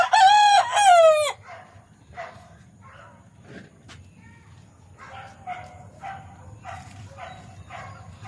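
A rooster crows loudly at the start, followed by repeated softer clucking and calls from chickens on a farm, with a dog barking once in the background.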